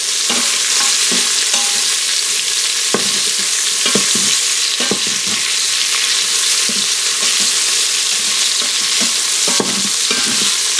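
Beef pieces browning in hot olive oil inside an Instant Pot, a loud steady sizzle throughout with frequent scraping stirs and clacks of the utensil, close up and without speech.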